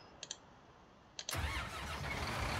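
A tractor engine in Farming Simulator 19 starts up: a few faint clicks, then a starter crank and the engine catching into a loud, steady close idle.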